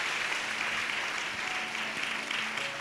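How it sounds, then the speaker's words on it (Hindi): A church congregation clapping loudly during a fasting prayer service, continuous dense applause filling the space from start to finish. "यस, जोर से ताली बजाएंगे।"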